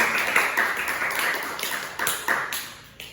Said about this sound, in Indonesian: Beri aplaus pada teman-teman.